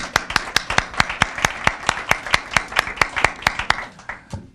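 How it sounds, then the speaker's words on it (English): Clapping at a United Way big check presentation for grantees, about twenty sharp, evenly spaced claps in a steady rhythm, close and fairly loud, tapering off at the end with no talking. "Let's give them a round of applause."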